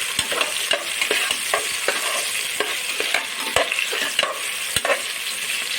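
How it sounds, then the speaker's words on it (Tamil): Mixed vegetables for veg pulao lightly sautéed in a pan, with a soft steady sizzle and repeated scraping stirs of a spoon, close and continuous. "லைட்டாக வதக்கிக்கலாம்."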